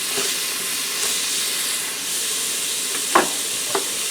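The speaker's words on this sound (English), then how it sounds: "I'm going to add in 1 medium onion that I diced up fine. And we're just going to put a light saute on that" Finely diced onion gently sautéing in melting butter inside an Instant Pot, a steady close hiss and sizzle with a couple of brief crackles near the end.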